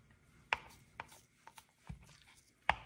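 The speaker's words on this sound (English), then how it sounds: "I'm just going to cube this up so that it melts faster" A knife cutting a block of cheese into cubes on a board for macaroni and cheese soup: a handful of quiet, sharp chopping taps spaced irregularly, with soft scraping between them and no voices.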